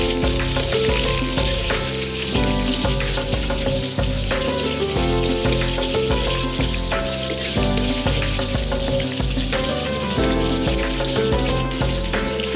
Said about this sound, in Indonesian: Tumis semua bahan.